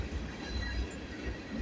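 Freight train with empty lumber cars rolling past, a rumbling rhythmic clatter of wheels on rail with faint squealing tones, steady and moderately distant.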